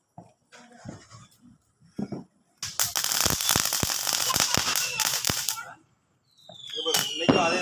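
Diwali firecrackers burst in a close, loud volley of sharp cracks and crackling after a few scattered pops, with people talking before and between the explosions.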